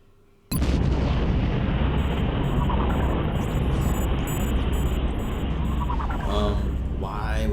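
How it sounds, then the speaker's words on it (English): A sudden loud boom in XCOM: Enemy Within bursts in and rolls into a sustained, dense rumble with crackling debris, accompanied by faint electronic beeps throughout. "Why was there an explosion sound?"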